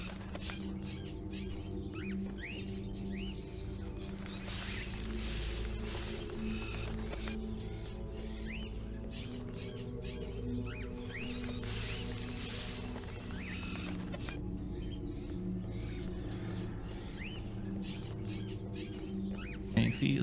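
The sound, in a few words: pigeons cooing in video game Fahrenheit: Indigo Prophecy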